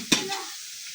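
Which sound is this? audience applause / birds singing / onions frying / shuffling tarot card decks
onions frying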